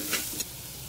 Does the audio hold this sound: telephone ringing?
no